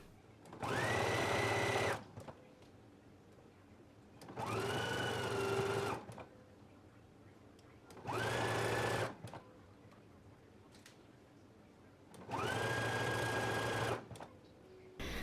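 A sewing machine zigzag-stitches a collar seam, running in four steady bursts of a couple of seconds each, separated by short pauses, moderately loud and with no talking.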